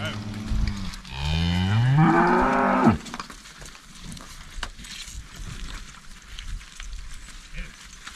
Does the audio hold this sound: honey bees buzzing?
no